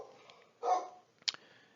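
Dogs barking indoors during a lecture: two short, fairly faint barks about half a second apart over a quiet background, with no voices.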